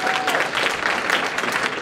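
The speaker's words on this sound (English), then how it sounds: "congratulate yourself with a round of applause for being here today" An audience at a Flint water crisis event with Michigan state representatives applauds in a brief, steady burst of dense clapping.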